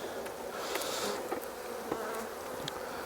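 Honey bees buzz steadily and close up as a hive is opened for a winter inspection, a dense continuous hum with a few louder passes, and no talking.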